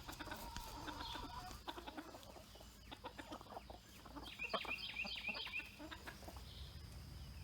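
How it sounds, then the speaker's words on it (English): A small bantam rooster and a flock of chickens on a farm make faint, distant clucks and short calls that overlap in a low, continuous barnyard murmur. "That little Bantam rooster, he's awful feisty."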